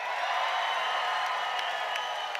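Audience at a debate cheering and clapping for the negative team, a brief, fairly faint wash of crowd noise with scattered claps and whoops from a room full of people.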